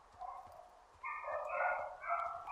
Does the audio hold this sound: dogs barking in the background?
yes